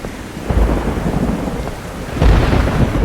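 Steady rain pours down through a thunderstorm, with low rumbling thunder swelling loudly near the end; no voices are present.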